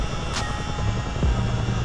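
A CH-47D Chinook helicopter in the flight simulator MSFS 2020 gives a steady rotor and engine hum at moderate volume, broken by a short whoosh and a faint tonal blip, with nobody talking.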